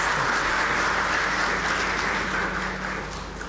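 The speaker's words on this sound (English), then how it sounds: "please join me in applauding Professor Somti for such a wonderful lecture" Audience applause closing a university foundation day lecture on how plants ward off pathogens, a steady dense wash of many hands clapping throughout, easing slightly toward the end.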